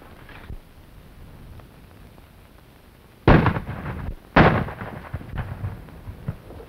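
Gunfire in a 1937 adventure film: two heavy, booming shots about a second apart stand out over a quiet hiss, followed by a few fainter pops and rumbles, with no talk.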